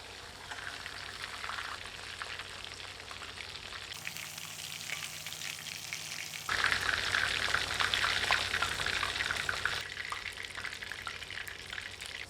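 Chicken pieces fry in hot oil in a kadai with a steady, dense sizzle and crackle throughout. It swells louder partway through, with occasional stirring clatter and no voices.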